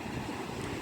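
Sea waves wash in at Colva Beach in South Goa on a calm morning, a brief, soft, steady surf rush blended with light wind noise and no voices.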